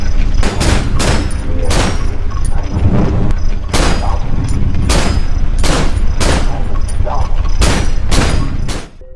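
Gunshots in the horror video game Cry of Fear, loud single blasts fired one after another at irregular intervals over a constant rumbling background, with someone talking underneath.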